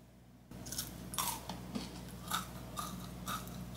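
Close, crisp crunching bites of homemade bran flakes come in an uneven rhythm of several chews, dry and crackly against a quiet background.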